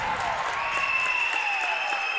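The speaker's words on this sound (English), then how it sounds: "Centerburg fans, loud applause for Harris as he approaches 40." Steady applause from basketball fans at a high school boys' game fills the gym, a dense continuous clatter of clapping with a faint whistle tone running through it.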